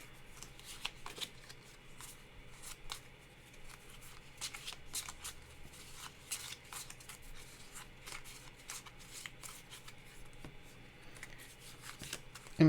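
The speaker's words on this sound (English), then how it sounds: "We're gonna shuffle." A deck of cards shuffled repeatedly at close range, crisp riffling bursts recurring over a quiet room, with no talking.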